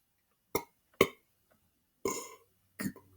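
A boy burps repeatedly into the microphone: four short, close belches, the first two quick and clipped, then a longer drawn-out one and a final short belch, with silence between.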